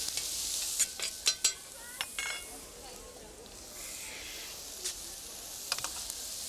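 Currants, raisins and almonds toast in a pan with a soft, faint sizzle, broken by a few sharp clicks and scrapes of a utensil stirring them.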